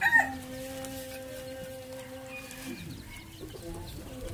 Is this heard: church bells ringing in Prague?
no